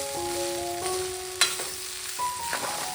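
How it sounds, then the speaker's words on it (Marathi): Leftover cooked rice with masala is stir-fried and mixed in a pan, giving a steady, close sizzle with a few scraping stirs and faint tones in the background. "सगळीकडे छान मसाला लागला पाहिजे त्यामुळे छान मिक्स करून घेऊया व्यवस्थित परतून घेऊया"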